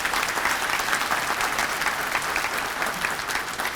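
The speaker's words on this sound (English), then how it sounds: "Let's give a round of applause to those people." A banquet audience at an annual membership meeting claps for sponsors, a dense, even round of applause holding steady throughout.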